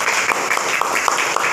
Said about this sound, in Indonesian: coba tepuk tangan sekali lagi